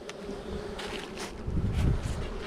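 Honeybees buzz steadily around an open hive with an empty super, a close, continuous droning hum that swells toward the end, with light wind noise in the background.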